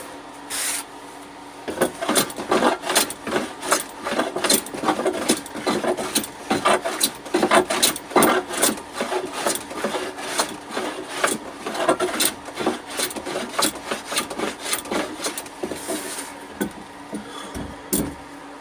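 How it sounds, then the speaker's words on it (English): A hand plane shaves a wooden desk top in a brisk series of rhythmic rasping strokes, each a short close swish, repeated steadily with brief pauses between passes. "So I can't wait to start planing"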